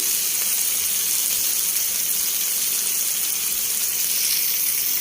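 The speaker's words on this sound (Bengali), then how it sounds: "খুব ভালো করে আমরা নেড়ে দিব আমাদের একটু পেঁয়াজ বাটাও দিয়ে দিব" Onion paste and cumin paste fry in a pan with a steady, bright sizzle that hisses evenly throughout, with no voices.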